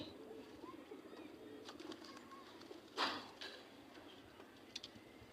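A pigeon coos softly in low, quiet murmurs amid faint ticking and small scuffling noises, with a brief sharper rustle partway through.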